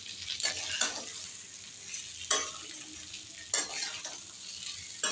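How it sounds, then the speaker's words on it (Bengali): Eggplant with amchur powder being stirred in a hot pan, a steady low sizzle with a few sharp scraping strokes of a spoon against the metal, close up and without speech. "এইভাবে একটু নেড়ে নিয়েছি। এবার একটু আমচুর পাউডার দিয়ে দেবো।"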